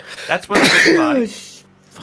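One sharp human sneeze bursting out right after a short spoken phrase, loud and close, with talk just before it.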